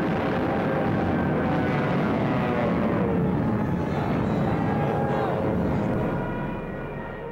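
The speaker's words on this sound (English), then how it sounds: "with Stuka dive bombers blitzing just ahead of them" A loud, rough aircraft engine roar like a Stuka dive bomber holds steady with a wavering whine on top, then fades slightly toward the end.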